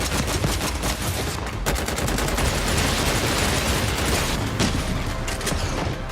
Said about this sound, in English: All the gun sound assets are recorded from real weapons in various exterior and interior environments.